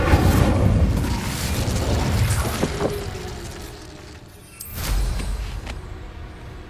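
A fiery spell blast in Hogwarts Legacy gives a booming whoosh, which fades and is followed by a second loud burst with a rumbling tail amid the game's combat noise.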